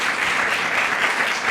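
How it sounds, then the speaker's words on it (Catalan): Steady, dense applause from an audience at a book presentation fills the whole short stretch, evenly loud with no voices over it. "aneu a donar un aplaudiment a esta persona, a Cristo,"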